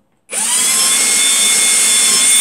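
A power drill whines steadily at close range, starting abruptly and running continuously with a high-pitched motor tone as it bores through plywood.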